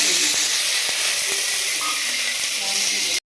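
Washed mutton fries in hot oil in a kadai on a gas stove, giving a steady loud sizzle and hiss close by, with a few faint clinks under it and no talking, until it cuts off abruptly.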